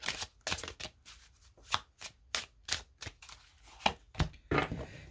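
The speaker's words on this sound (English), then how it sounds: "Two more shuffles, please" Cards are shuffled in a series of quick, crisp riffles and taps, close up, with short irregular pauses between bursts.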